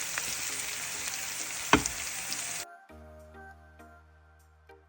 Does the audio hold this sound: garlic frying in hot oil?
yes